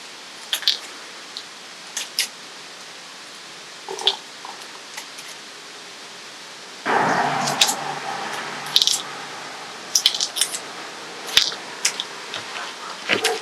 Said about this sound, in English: all I'm going to do is cut this up, little singles here, little pieces.